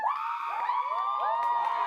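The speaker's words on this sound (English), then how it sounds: "Cheer the loudest for who you think won" A school audience cheers and whoops for a Face Off contestant during a vote, a dense, sustained roar of young voices and shrill yells that holds steady throughout.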